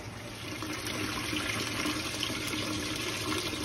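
Water gushes from a tap into a container, a steady close rushing and splashing that stays constant throughout with no letup.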